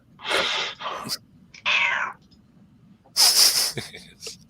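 A house cat meows several times up close, drawn-out and slightly wheezy cries separated by short pauses, heard over a faint background hum.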